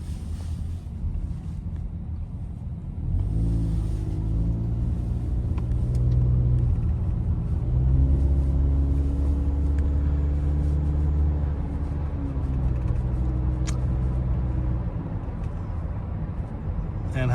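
A 2009 Toyota Camry LE with a 4-cylinder engine drives along a road, its steady low engine and road rumble rising after a few seconds and holding, with wind noise over the microphone throughout.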